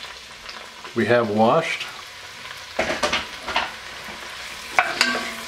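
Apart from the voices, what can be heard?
sauteing mushrooms and aromatics in oil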